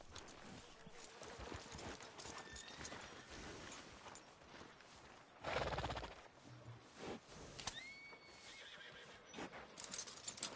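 Video game horse with clip-clopping hooves and a whinny: faint steps and tack sounds, then a louder snort and neigh in the middle, with soft ambient tones behind.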